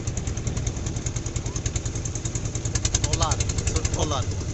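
A shallow-engine wooden boat crosses the Padma river, its engine chugging in a steady, loud, rapid rhythm close by, while voices talk over it.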